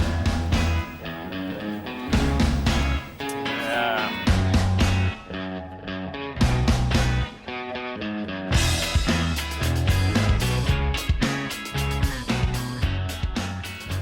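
A loud, busy indie rock recording with driving drums, distorted electric guitars and bass, punctuated by brief breaks before the band kicks back in.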